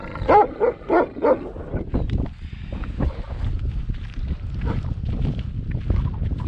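A few loud, close dog barks in quick succession, followed by muffled rumbling noise and faint whimpering.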